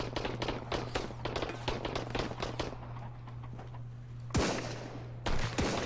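Gunfire in the survival game Sunkenland: a quick series of sharp cracking shots at moderate loudness, then a quieter gap followed by two louder isolated blasts over a steady background hum.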